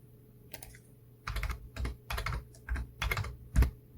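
A computer keyboard is typed in uneven bursts of close, crisp keystrokes over a low steady hum, entering numbers and text for a Java console program, with no talk.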